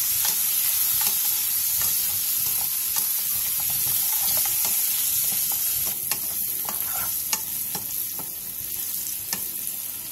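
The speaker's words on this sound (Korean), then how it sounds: "팬에 기름을 두른 뒤 마늘과 알감자를 넣고 마늘이 노릇해질 때까지 센 불에서 볶아주세요." Garlic and baby potatoes stir-frying in oil in a pan over high heat, a loud continuous sizzle with repeated scraping and clacking of a utensil stirring through the pan, close by, with no talking.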